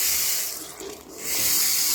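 Hot water runs from a tap in a public toilet, a loud close hissing splash that dips briefly in the middle, as if the flow is interrupted, then returns full and steady.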